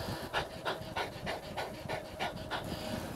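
A cyclist breathes hard on a descent during a virtual race stage, heavy panting repeating in a steady rhythm of about three breaths per second, close and loud with no talk.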